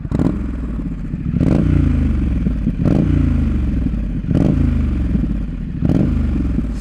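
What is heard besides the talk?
Harley-Davidson 150HP ADV motorcycle exhaust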